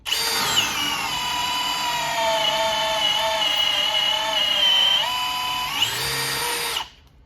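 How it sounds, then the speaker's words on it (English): A Ridgid power drill bores into wood with a Diablo auger bit, a loud, close, sustained motor whine that dips slightly in pitch under load, rises again near the end, then cuts off abruptly. "So let's do the second with the Diablo auger right here."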